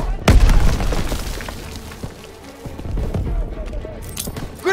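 A grenade in the World War II shooter Call of Duty: WW2 goes off in a loud close boom, followed by rumbling battle noise and soldiers shouting.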